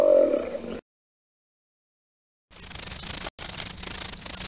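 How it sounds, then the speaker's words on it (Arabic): A locust chirps in a loud, steady, high buzzing trill in three bursts split by brief gaps, preceded by a short unrelated sound and a stretch of silence. "جرادة."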